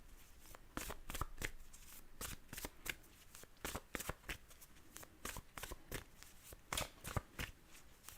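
A deck of playing cards being shuffled close up, with repeated riffling bursts and the snap of cards falling together, alone without talk.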